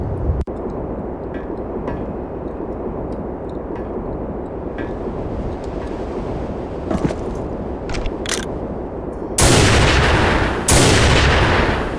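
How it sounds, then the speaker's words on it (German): Gunfire in the Soldier of Fortune 2 video game, a loud sustained stream of shots and blasts, louder bursts of rapid machine gun fire near the end. "So, das war der MG-Schüsse."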